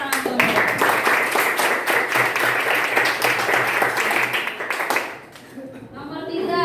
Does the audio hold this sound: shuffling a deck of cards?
no